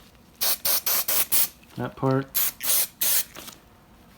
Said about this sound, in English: We're going to spray the upper piece.